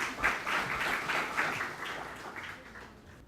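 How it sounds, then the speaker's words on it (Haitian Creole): An audience at a televised Creole-language debate programme applauds faintly and at some distance in a few uneven swells that taper off over about three seconds. "Sur vos applaudissements"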